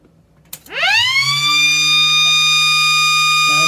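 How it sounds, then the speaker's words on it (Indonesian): A generator set's emergency stop alarm starts after a sharp click and rises into a loud, steady multi-tone electronic wail that holds without break to the end. "ini kan dia alarm"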